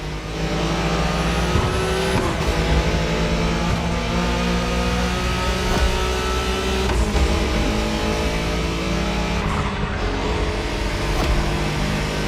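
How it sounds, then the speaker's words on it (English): A Nissan Skyline R34 engine drives steadily in The Crew Motorfest racing game, a loud, continuous motor drone with shifting tones and revs throughout. "You're driving Ren's Skyline this time"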